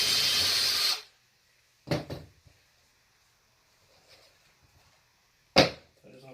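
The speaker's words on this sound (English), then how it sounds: "Finish up my drill." A power drill loosening screws on a bearded dragon enclosure: a sustained whir for about a second, then two short separate bursts later, with quiet stretches and faint handling noise between.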